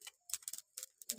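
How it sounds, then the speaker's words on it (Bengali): Whole cumin seeds popping and crackling as they dry-roast in a pan without oil, a close, faint run of sharp irregular ticks separated by short silences. "এবার ফাটফুট করে ফাটছে"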